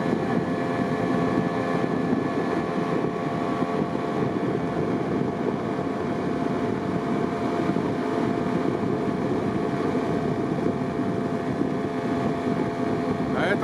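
A steady motorboat engine drones on without a break as it passes along a river bend, mixed with wind rushing across the microphone.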